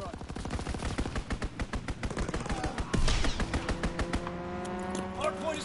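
Rapid machine-gun bursts from a fighter aircraft's strafing run in Call of Duty WW2, loud dense rattling fire with a heavy impact near the middle, then a fading whine of engines.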